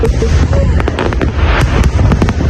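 Dense New Year fireworks over Sydney Harbour, with rapid overlapping booms and crackling bursts rolling on without pause over a loud, rumbling crowd.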